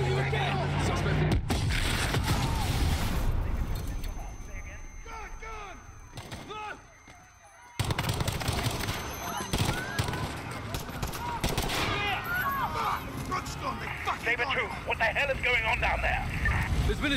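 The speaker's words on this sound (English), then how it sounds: "Shots fired, officers down." Gunfire from the Call of Duty: Modern Warfare campaign in a Piccadilly Circus street battle, loud bursts and shots mixed with game dialogue and chaotic noise, briefly dropping quieter before resuming dense fire.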